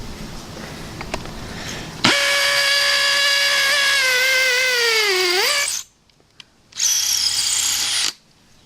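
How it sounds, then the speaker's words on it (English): A Dewalt 20V XR brushless drill in hammer mode whines loudly at full speed, its pitch sagging as it bites into the workpiece before cutting out. A second, shorter burst of high-speed spinning follows after a brief pause. "So I'm going to put this on hammer, high speed, and I'm going to just let it go full speed and see what happens."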